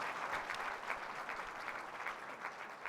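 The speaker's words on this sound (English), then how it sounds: "How about a round of applause for the IT team?" A round of applause for a city IT team during a State of the City address, a hall full of people clapping in a steady, fairly distant patter for about three seconds.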